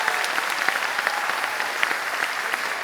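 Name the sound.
audience applause for school choirs at concert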